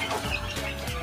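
A chicken clucks close by in a rural yard, a short burst of throaty calls lasting about a second.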